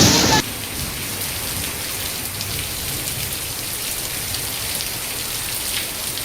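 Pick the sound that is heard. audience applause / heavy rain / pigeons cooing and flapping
heavy rain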